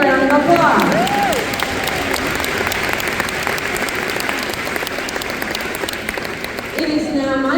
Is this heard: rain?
no